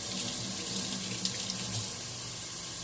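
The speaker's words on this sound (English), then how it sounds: "Rinse my hands real quick." A kitchen tap runs steadily as hands are rinsed under it, a constant close rush of water with a couple of faint clinks partway through.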